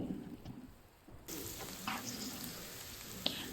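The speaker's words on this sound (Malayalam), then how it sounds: "ഒരു മൂന്ന് സെക്കൻഡ് ഹൈ ഫ്ലെയിമിൽ കുക്ക് ചെയ്യാം" Chicken roast with shallots cooks in a covered pan over a high flame, giving a faint steady sizzle that grows louder and brighter after a second, with occasional small pops.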